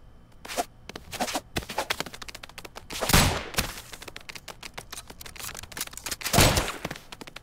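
Bursts of rapid gunshots from the video game Rounds, sharp cracking volleys fired in uneven clusters with louder, denser bursts near the middle and end, close and punchy with quieter gaps between.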